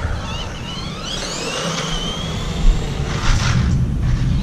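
An HBX Protector 4WD RC desert buggy on its first drive, the electric motor whining and rising in pitch as it speeds past outdoors, with rushing wind noise and a couple of louder knocks.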